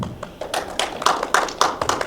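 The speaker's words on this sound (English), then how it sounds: "give a round of applause to John with his fandom app" An audience at a tech demo night gives a round of applause for a presenter introducing his fandom app. The clapping is irregular and builds in a few louder bursts, moderately near, with no talk over it.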